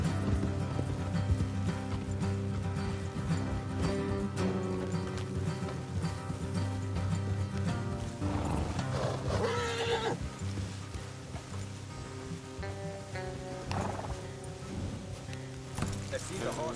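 Horses neighing and whinnying with clip-clopping hooves on a road, mixed under a dense music bed with voices speaking over it throughout.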